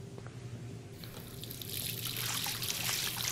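Running water in the video game Life is Strange, a steady hiss and trickle that grows louder and fuller over a few seconds, with no voices.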